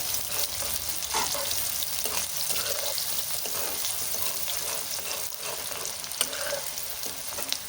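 Vegetables for vangibath sauté in a pan with a constant sizzling hiss, broken by scraping stirs and a few sharper clinks near the end, close by and without talk.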